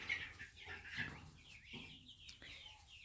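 Hens clucking in a backyard flock, faint and somewhat distant, with soft, irregular clucks and murmurs against quiet outdoor background.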